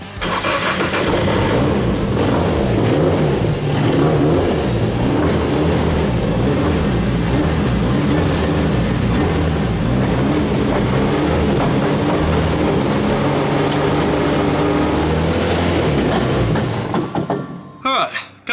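A Nissan S13 drift car with a sequential gearbox running roughly at its first start, loud rumbling engine noise held steady and close for a long stretch before cutting off abruptly near the end.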